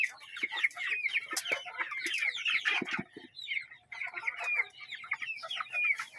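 Several domestic chickens cluck and squawk busily close by, a dense, overlapping chatter of hen calls with short pauses.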